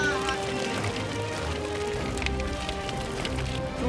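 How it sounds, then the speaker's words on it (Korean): A dense, rapid pattering like rainfall as many tuna and other fish flap and thrash together in a net on a traditional Sulawesi fishing boat, with faint voices in the background. "그런데 물고기 파닥거리는 소리가 꼭 빗소리 같죠"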